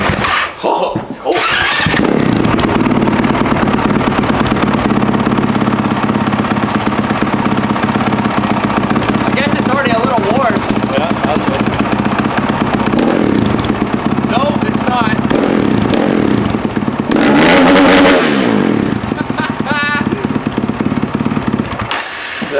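A cold Honda motorcycle engine runs loud and close in a barn, idling with a steady rumble and rising in a few sharp revs, while people talk nearby.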